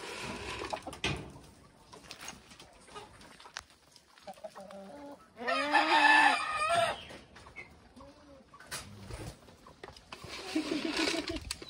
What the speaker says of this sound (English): Chicken, they come for food.